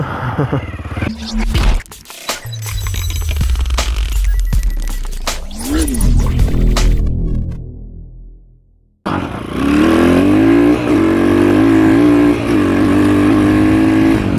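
A warmed-up motorcycle revs loudly and close on a countryside trail ride, the engine roaring up and down in repeated bursts, dropping off briefly, then growling again at a steady high pitch.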